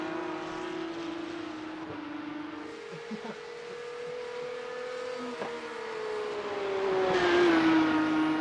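Porsche Cup race car at Oulton Park in a racing video game, a sustained engine whine that steps through gear changes, drops and climbs again, swelling louder near the end, with no talk over it.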